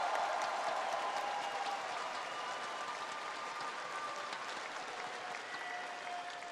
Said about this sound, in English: Vancouver, please a round of applause one last time for your champions.